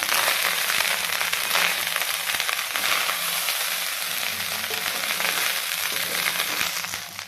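Fried rice frying in hot oil in a home kitchen, giving a steady, dense sizzle that carries on unbroken from start to finish with no voices over it.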